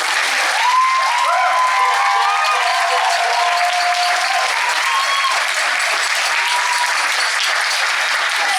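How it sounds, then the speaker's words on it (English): An audience applauds Chris Smalls, the labor organizer, in a dense, loud, unbroken wash of clapping from a large crowd, with a few scattered cheers and whoops rising above it early on. "So join me once again in the applause"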